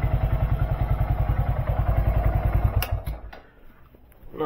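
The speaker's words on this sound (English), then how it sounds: "I let it run the oil through the motor a bit" A Honda Monkey 125 motorcycle engine idling after an oil change, a rapid even thumping putter close by that cuts off near the end, followed by faint clicks and quiet.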